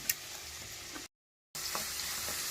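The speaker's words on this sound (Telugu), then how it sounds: "ఆనియన్స్ తర్వాత క్యాప్సికమ్ క్యారెట్ క్యాబేజ్ అన్నీ వేసుకొని ఈ విధంగా మనము ఫ్రై చేసుకోవాలండి" Onions, capsicum, carrot and cabbage stir-fry for veg noodles with a steady, close hiss and crackle of sizzling, broken by a short spell of total silence midway before the frying noise resumes.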